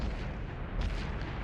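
A tank's ammo rack exploding in a video game match, heard as a dull, heavy boom that rumbles over a dense low roar, with a second swell of blast noise midway through the short burst.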